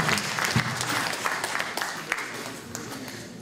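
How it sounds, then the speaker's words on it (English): Audience applause at a public meeting to defend the Whittington Hospital, a moderate crowd clapping steadily with a few louder individual claps, gradually thinning toward the end. "Please give Candy a big round of applause"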